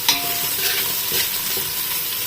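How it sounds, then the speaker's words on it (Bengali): Onion and a little cumin fry in oil mixed with a bit of ghee, a continuous close sizzle with occasional stirring scrapes and a faint clink at the start, and no talking. "তেলের সাথে একটু সামান্য ঘি মিলিয়ে পেঁয়াজ দিয়ে দিয়েছি আর সামান্য একটু জিরে দিয়েছি"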